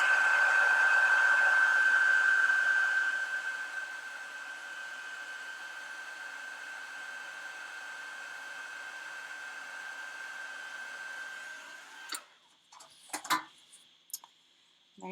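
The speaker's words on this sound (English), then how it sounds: "And then I'm going to heat this with the heat tool." An embossing heat tool blows loudly with a steady whining hiss, fades to a softer continuous whoosh as it melts powder, then cuts off and is followed by a few light taps and clicks.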